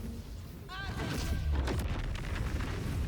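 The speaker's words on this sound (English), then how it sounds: "So we have the big fireball." A big fireball spell in Baldur's Gate 3 whooshes up and bursts into a heavy, rumbling explosion that rolls on after the impact, with a brief rising tonal effect before the blast.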